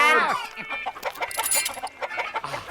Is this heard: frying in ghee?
no